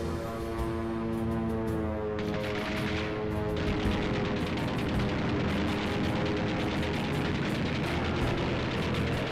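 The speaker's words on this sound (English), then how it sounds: "American anti-aircraft fire was intense and accurate." American anti-aircraft guns fire during the Battle of Midway, a dense, continuous barrage of rapid bursts and rumbling blasts that stays loud throughout, with a sustained droning engine tone early on.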